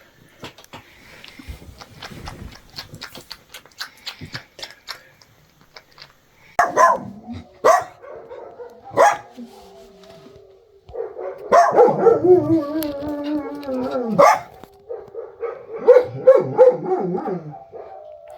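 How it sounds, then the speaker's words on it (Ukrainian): Several dogs bark and yip outdoors at night, first scattered and faint, then louder overlapping bursts and whining in a lively, uneven chorus. "Всі собаки гавкають."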